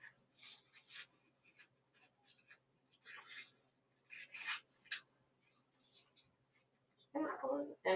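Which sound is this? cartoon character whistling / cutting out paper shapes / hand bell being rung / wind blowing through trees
cutting out paper shapes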